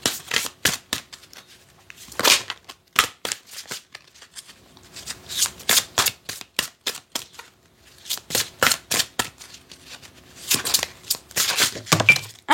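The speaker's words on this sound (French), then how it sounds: "on va tirer une carte de l'oracle de la Terre Sacrée pour conclure ce tirage" Sacred Earth oracle cards are shuffled by hand in repeated bursts of quick, crisp riffling and slapping, close up, with short pauses between rounds.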